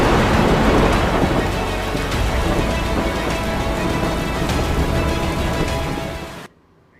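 Heavy monsoon rain pours loudly and steadily in Gujarat, with rumbling thunder underneath and a sharp crack near the start, before the sound cuts off abruptly near the end.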